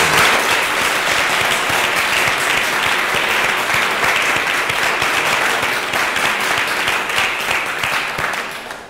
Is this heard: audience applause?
yes